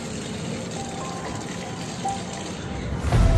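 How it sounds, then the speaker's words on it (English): Water poured onto plants during a World Environment Day watering routine, a soft continuous splashing trickle at close range, ending in a louder burst. "I am giving water to plants."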